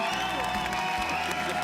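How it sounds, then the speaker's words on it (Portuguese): A studio audience applauds and cheers for a group of girl singers from Petrópolis on a Brazilian TV comedy show, dense steady clapping with whoops filling the whole moment at close, loud level. "Palmas para elas."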